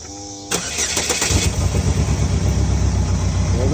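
A 2009 Chevy HHR, just back from a fuel line repair, cranks briefly and catches, then settles into a steady, close, loud idle.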